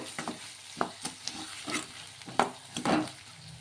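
Ginger garlic paste is stirred into softened vegetables in a pan, with repeated scraping strokes and irregular utensil taps over a quiet sizzle.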